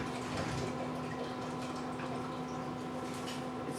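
Chicken broth pours steadily into a pot of okra on the stove, a continuous close liquid rush and splash with a faint steady hum beneath, no talk.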